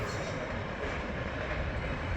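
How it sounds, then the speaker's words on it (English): A grain freight train rolls past at night, a steady broadband rumble and rush of cars and wheels that holds even and fairly close for the whole stretch, with no voices. "Got a grain train right behind him."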